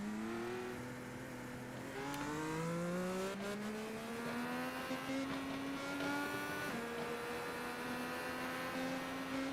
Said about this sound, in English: He's got the revs going. Clutch in. Launch out.